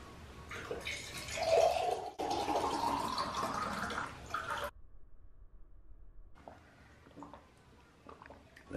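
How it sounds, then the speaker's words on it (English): Purified water runs from a filter tap into blue water bottles as a steady hiss and splash for about four seconds, then cuts off, leaving faint drips and quiet clinks. "we've hooked this up so it can fill up the blue water bottles easily"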